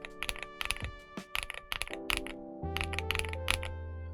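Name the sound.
mechanical keyboard typing with Gateron G Pro yellow switches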